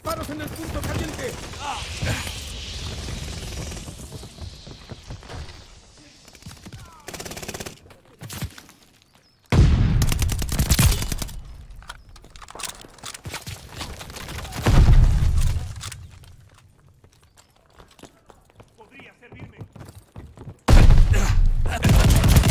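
Gunfire in Call of Duty Vanguard, bursts of rapid automatic shots and heavy impacts in loud clusters separated by quieter stretches, with voices shouting in game chatter.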